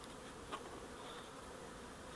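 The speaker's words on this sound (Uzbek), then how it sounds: "Arilar kirib chiqishi zo'r bo'ladi" Honeybees hum faintly and steadily at a hive entrance, a soft continuous buzz with one brief closer pass, no voices.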